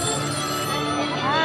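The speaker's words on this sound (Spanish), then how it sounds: "Ay, suena el teléfono" An old telephone rings continuously inside a Black Phone haunted house at a Halloween horror event, a steady electronic ringing heard close over background crowd noise.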